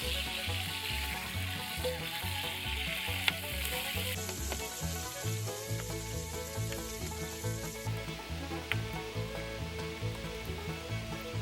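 A wild boar tartare mixture with capers sizzles in a hot pan on the stove, giving a loud, steady, continuous frying hiss up close with no pauses.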